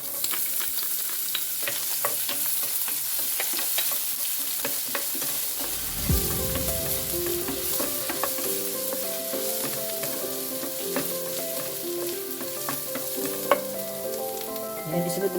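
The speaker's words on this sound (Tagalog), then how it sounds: "Yan, mainit na yung ating mantika. Pwede na natin ilagay yung ating in-slice na carrots." Sliced carrots hit hot coconut oil in a pan partway through, and a steady, bright sizzle swells and carries on, with occasional stirring clinks and music playing underneath.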